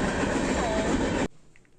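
A train roars past on its rails as a loud, steady broadband rush that cuts off abruptly, leaving a faint hum and distant murmur behind.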